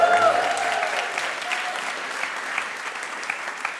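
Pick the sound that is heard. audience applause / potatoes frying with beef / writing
audience applause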